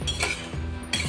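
Clattering kitchen utensils and dishes, a handful of close metallic clinks and knocks in quick irregular succession over a short moment, with no speech.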